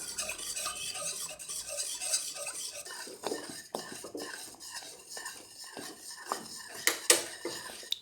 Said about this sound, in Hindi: लगातार मैं विस्क चलाती रहूंगी और इसी तरह पकाकर इसको गाढ़ा करूंगी।